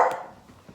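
A dog gives one short bark, fairly faint and close, then brief quiet with small shuffling noises.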